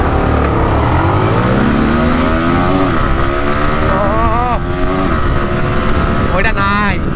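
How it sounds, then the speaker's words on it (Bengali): A Yamaha R15 V3 or CFMoto 300SR sport motorcycle revs and accelerates nearby, its engine note climbing in pitch through gear changes, loud and steady throughout while someone talks over it. "বাইকটা একটু গ্যাপ করে তারপর টান দেই।"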